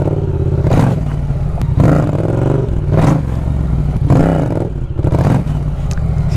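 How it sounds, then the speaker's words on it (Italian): Yamaha motorcycle engine revs up and falls back several times in a row, loud and close, with a rough mechanical clatter between the pulses of throttle. "Sì, ma è troppo cattiva in basso sta moto."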